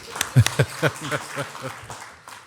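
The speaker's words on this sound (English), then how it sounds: "Give them a round of applause." Scattered applause from an audience at an inauguration ceremony, greeting public safety staff, a few sharp claps standing out before the sound thins away.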